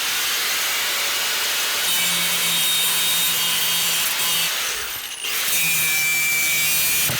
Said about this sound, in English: let's get ourselves a grinder